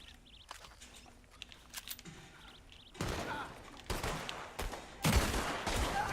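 Gunfire rings out in Red Dead Redemption II online on PS4: faint clicks and game ambience at first, then loud bursts of shots around the midpoint and again near the end.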